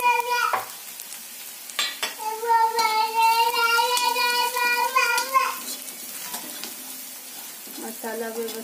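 Onion and spices fry in a pan for a beetroot bhaji, a soft sizzle running beneath a voice that rises clearly over it for several seconds.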